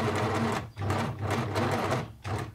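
A 1980s Singer Futura 2002 electronic sewing machine runs after its hook is oiled, with close, loud bursts of rapid stitching separated by brief pauses, and no talking.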